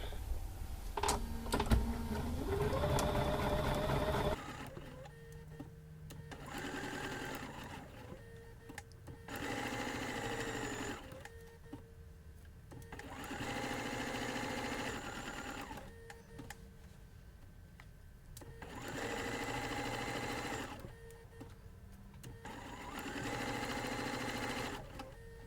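Sewing machine stitching through pinned fabric in repeated bursts of rapid mechanical whirring, several runs separated by short quiet pauses, close up and fairly soft.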